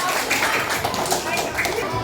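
Classmates clap for a group of fifth-grade students in a classroom coding lesson, a dense continuous patter of hands with a voice talking over it.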